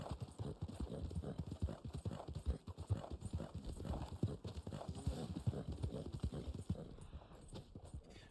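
A horse in the game Red Dead Online clip-clops steadily over hard ground, with dense rhythmic hoof falls throughout and a faint whinny, loud and close against a low background rumble.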